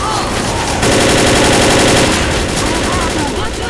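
Minigun roaring in sustained rapid automatic fire during Left 4 Dead gameplay, a loud continuous buzzing stream of shots with other gunfire mixed in, and voices talking underneath.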